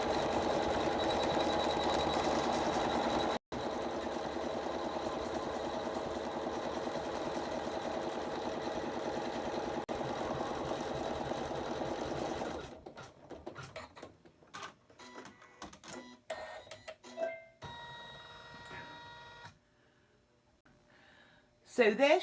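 An embroidery sewing machine stitches out a table mat with a steady, loud mechanical whir that runs continuously, then breaks into sparse clicks, pauses and short bursts as it slows and stops.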